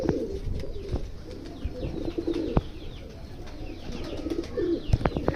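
Chapray breed pigeon chicks coo steadily and close by in soft repeated low calls, with occasional sharp clicks and scuffling sounds, as at a breeder's loft in Faisalabad.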